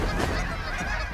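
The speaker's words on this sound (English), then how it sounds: "A lot of birds up at 12." Many geese honk overhead in Alberta as a flock of waterfowl passes, a dense, overlapping chorus of calls, fairly loud and close for about a second.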